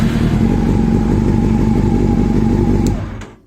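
A Honda CB400 Super Four four-cylinder motorcycle engine runs at a steady idle, close and loud with a low throbbing hum, then cuts off abruptly after about three seconds.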